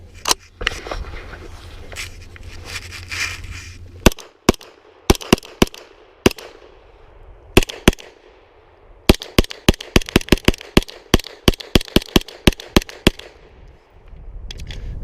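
A PSA AKV 9mm carbine fires at a range, with sharp, loud shots in irregular single reports and quick strings, interrupted by a pause and some handling noise.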